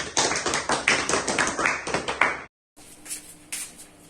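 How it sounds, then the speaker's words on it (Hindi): Hand claps from a small rooftop gathering in Delhi, a short burst of sharp, fairly loud claps for about two and a half seconds, then a pause before quieter scattered clapping resumes. "तालियां।"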